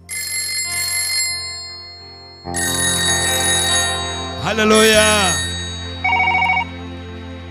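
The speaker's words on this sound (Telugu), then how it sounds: "ఒకే ఫోన్ మోగింది" A telephone rings in several bright, repeated electronic bursts separated by short pauses, close and fairly loud. A voice exclaims briefly over the ringing midway through.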